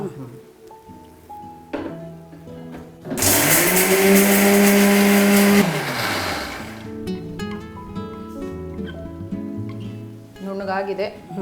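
Mixer grinder whirring loudly as it grinds chopped ginger for chutney, a steady motor roar lasting a few seconds with a rising then falling pitch, framed by kitchen clinks and people talking before and after.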